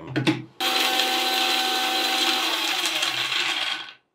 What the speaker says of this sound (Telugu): ఇప్పుడు అయితే మనం మిక్సీ పట్టేసేయాలి.